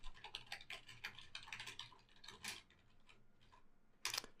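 Code being typed on a computer keyboard, a close run of quick, irregular key clicks that thins out in the middle before a last sharp burst of taps, with no talking.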